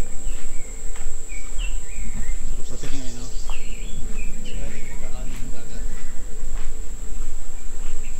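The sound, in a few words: birds calling outdoors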